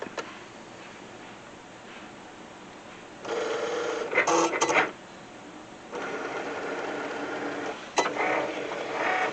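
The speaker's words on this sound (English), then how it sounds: "We're going to go ahead and load this into the Cricut and hit cut." A Cricut cutting machine slicing a detailed Oracal 651 vinyl decal, heard as bursts of steady mechanical whirring and buzzing with short pauses between passes, close and fairly quiet, with no talk.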